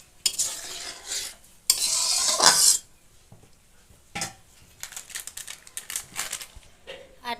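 Pieces of raw mango are stirred into boiling sugar syrup in a pan. A spoon scrapes and clinks against the metal, and bubbling sputters run between the bursts of stirring.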